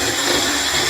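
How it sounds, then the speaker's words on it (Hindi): A kitchen mixer grinder briefly whirs while coarsely crushing fried gram flour fritters for motichoor laddoo, a loud, steady, high-pitched motor buzz lasting about a second. "तो मिक्सी को हमें हल्का हल्का चलाना है।"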